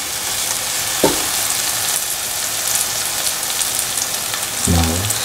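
Curry leaves frying in a pan for green mango rice, a steady loud sizzle throughout, with two short scraping stirs, one near the start and one near the end, close up.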